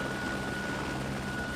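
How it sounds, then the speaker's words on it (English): A helicopter in the video game Eden* gives off a steady, dense rotor-and-engine drone from inside the aircraft, constant and unbroken throughout, with no talking. "We're on a helicopter?"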